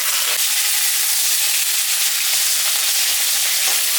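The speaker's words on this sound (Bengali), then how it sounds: "সজনাটা ভাজা ভাজা হয়ে গেছে।" Drumsticks fry in oil in a kadai, giving a steady, loud, close sizzling hiss that barely changes throughout, with a couple of soft stirring knocks and no voices.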